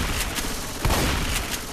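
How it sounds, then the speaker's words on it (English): In the Left 4 Dead video game, rapid gunfire crackles in a dense, continuous burst of loud shots with a few sharper cracks standing out. "Unless I shoot my gun."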